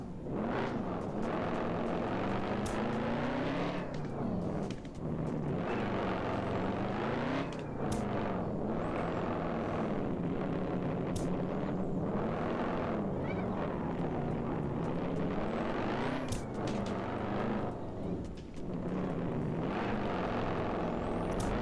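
Car drifting in the game Drive Zone Online, with a sustained engine roar and repeated revving swells and tire squeals, loud and continuous.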